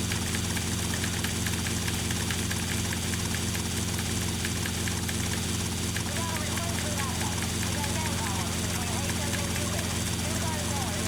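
Police helicopter engine in a GTA Vice City mod, a steady droning rotor and engine hum that runs continuously throughout with no breaks.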